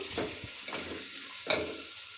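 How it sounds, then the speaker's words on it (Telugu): Chopped onions frying in hot oil until golden, a close, steady sizzle broken by a few sharp stirring scrapes from a spoon against the pan, with no talking. "ఇలా కట్ చేసి పెట్టుకున్న ఉల్లిపాయలు వేసుకొని బాగా వేయించుకోవాలి"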